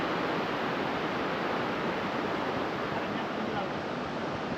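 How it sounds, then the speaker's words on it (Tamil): Water from the Sholayar dam rushes along a forest stream near Valparai, a dense, constant close-up roar with no breaks. "அழகாக தண்ணி ஓடிட்டு சூப்பராக அந்த இடத்துல"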